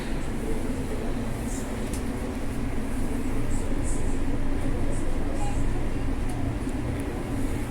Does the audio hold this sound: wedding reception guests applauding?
no